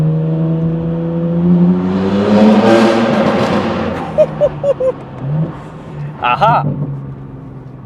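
A BMW G80 M3 fitted with 200 cell downpipes and a single midpipe resonator delete revs loudly up and down nearby, rising to a roaring peak and then popping and crackling, with a brief spoken exclamation.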